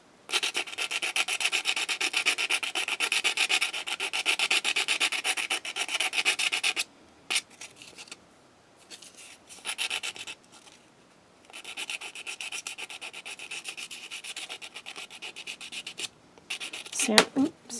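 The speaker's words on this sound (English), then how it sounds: "Sand all the glue off." Coarse sandpaper scrubs dried glue off a cured resin piece, a steady close rasping for about seven seconds, then shorter bursts of rubbing separated by pauses, ending with a sharp scrape.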